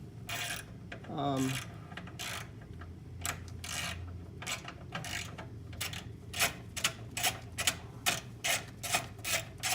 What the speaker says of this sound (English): Now don't over tighten the drain plug.